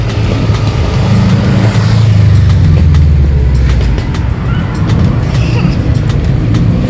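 A Corvette revs its engine loudly while pulling away from a Charlotte Cars and Coffee meet, a deep rumble that swells and fades nearby over several seconds.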